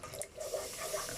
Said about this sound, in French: je vais verser le lait